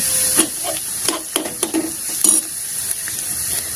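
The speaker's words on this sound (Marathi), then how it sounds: "कांदा छान परतत आलेला आलं लसूण पेस्ट घालायची" Onion sautéing in a pan as ginger-garlic paste goes in, a low steady sizzle broken by a few spatula scrapes and stirs, nearby with no speech.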